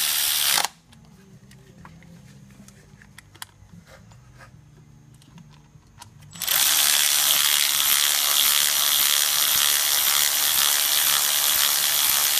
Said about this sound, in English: Now you can put the bolts back in.